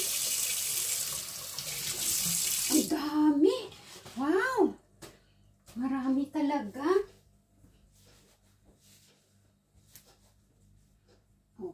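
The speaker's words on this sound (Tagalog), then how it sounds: "at maghuhugas ako ng kamay" Hands are washed under a running tap outdoors on a rainy day of mushroom hunting. Water gushes loudly for about three seconds before shutting off, then voices, including a child's, talk over faint background noise.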